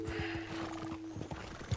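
A horse in the Red Dead Redemption 2 video game, close by with hooves clip-clopping steadily and a snort or whinny near the end, set against a low steady hum.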